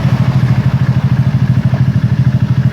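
Honda Beat FI scooter engine idling steadily after starting, a close, loud, even mechanical putter with a rapid regular pulse.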